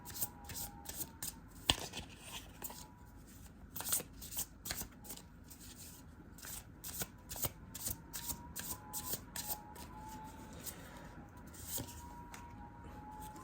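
Tarot cards are shuffled close up in quick, irregular bursts of crisp riffling and flicking, continuing steadily at a low level with no talk.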